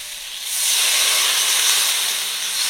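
Water poured into a pan of frying potatoes, sliced tomato and spices sets off a loud, steady hiss that rises after a brief pause and holds up close, with no talk over it.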